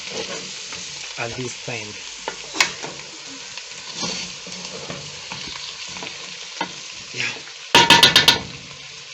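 Beef and sautéed potatoes cook in a pan with soft sizzling and stirring scrapes, heard close under a man's speech, and a short burst of sharp metallic clatter comes near the end.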